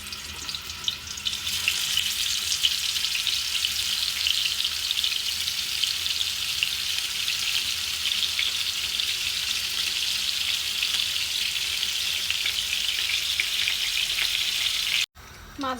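Pomfret fish fries in a pan with a loud, continuous crackling sizzle that holds steady throughout, then breaks off abruptly just before the end.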